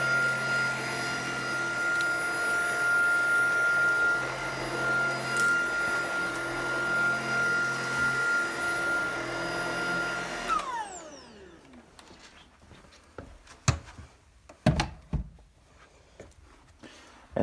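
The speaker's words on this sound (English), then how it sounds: "that, my fellow viewers, is my dad's parents' brand new stick vacuum" A Tineco cordless stick vacuum cleaner runs with a loud, steady motor whine and hum for about ten seconds, then powers down with a falling tone, leaving faint clicks and handling knocks afterward.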